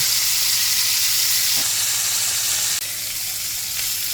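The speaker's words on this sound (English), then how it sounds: "let them sear on this side now for about 3 minutes too" Pork chops sear in a hot pan with a steady, loud, broad sizzle that runs unbroken throughout, dipping slightly near the end, with no talking.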